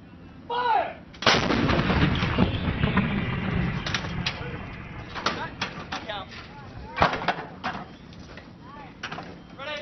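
An M777 howitzer fires live rounds in Afghanistan with a sudden loud boom and a long rumbling roll, followed by shouted commands and further bangs from other guns.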